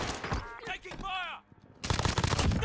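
Gunfire in Call of Duty Modern Warfare: rapid automatic bursts crackle loudly through the first second and again densely in the final stretch, mixed with vehicle and game effects, with a short lull between.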